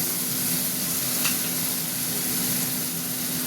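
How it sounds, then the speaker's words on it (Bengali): Spice masala tipped into a pan of frying banana flower curry with prawns, giving a steady close sizzle with a light stirring scrape partway through, no voices. "মশলাটা দিয়ে দিচ্ছি"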